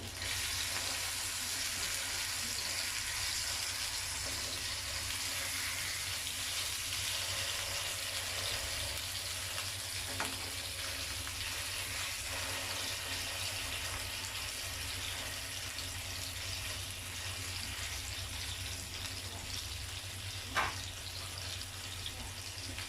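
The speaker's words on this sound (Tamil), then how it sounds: "இப்போ மீன் வந்து ஒரு சைடு ஃப்ரை ஆகிருக்கும். நம்ம இன்னொரு சைடு திருப்பி விட்டுடலாம்." Kilicha meen fish sizzles steadily in hot oil in a pan, a dense continuous crackle that stays close and even throughout, with a couple of brief louder pops.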